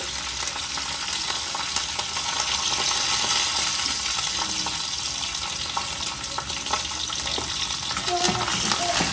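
Asafoetida dropped into hot oil for a red chili pickle, sizzling and crackling in a steady, close frying hiss that runs throughout with small scattered pops.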